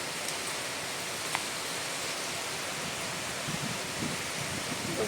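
Heavy rain falling outside a home, a steady dense wash of broadband noise that runs unbroken and fairly loud throughout, with a few faint low thumps and taps mixed in.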